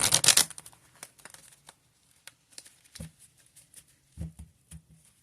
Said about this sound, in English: we got good old tarot cards here. I'm just going to give them a quick shuffle